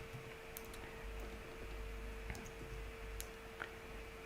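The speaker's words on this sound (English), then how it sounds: "Sorry, my typing." Light, irregular key clicks from a computer keyboard during a live coding session, a scattering of faint taps over a steady low background hum with no voices.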